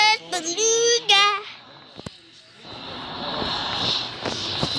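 Video game audio of an Airbus Beluga aircraft engine: a steady, rising jet whine and rumble builds after a voice speaks briefly at the start.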